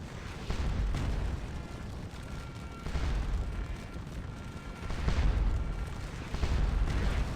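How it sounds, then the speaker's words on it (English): Massed gunfire and artillery rumble through a Napoleonic battle video game set at Wavre, Prussians against French, forming a dense continuous roar with heavier swells of booming volleys, no voices on top. "They're just shooting."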